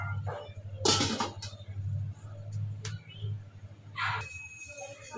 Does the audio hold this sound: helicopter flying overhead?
no